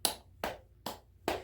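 Four evenly spaced, crisp slaps ring out as a hand taps a thigh and claps, each one short and fairly soft against a quiet background, with no talking.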